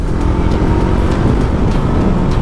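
A steady, loud 500cc parallel-twin engine roar on an FKM Expres 500 Racer motorcycle, a deep rumbling drone revving continuously as it accelerates hard.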